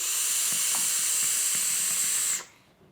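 Close, steady sizzling hiss with faint crackles and pops from a Serpent SMM vape tank's coils, cutting off abruptly near the end.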